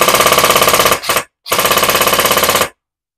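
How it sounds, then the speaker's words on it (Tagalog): An FJS BLP gel blaster assault rifle fires on full auto in two loud, close bursts of rapid, evenly spaced shots. A short gap separates the bursts, and silence follows. "Pag full auto, ganito."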